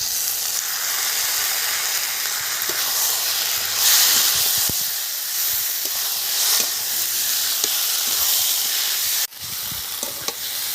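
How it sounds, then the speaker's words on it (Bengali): Raw ground spice paste frying in a pan for a fish curry, a steady close hiss and sizzle running throughout with faint scraping stir clicks, briefly dipping near the end. "হালকা করে 1 মিনিট ভেজে নিয়েছি।"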